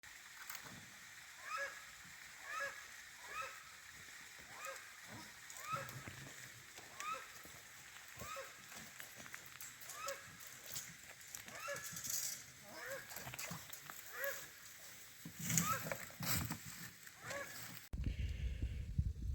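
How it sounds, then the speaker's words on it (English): Splashing and sloshing in pond water as a check valve is pulled off the end of a solar pump's suction line, with irregular wet splashes and water movement close by, ending in a louder rush of water. "I need to go and remove the check valve from the end of the suction line in the pond"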